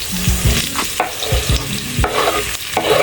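Onions and green chillies frying and being stirred in a pan for vegetable kurma, a steady sizzle broken by repeated scraping stir strokes, close and loud with no voices.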